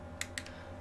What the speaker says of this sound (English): I'm sorry if there's a clicking noise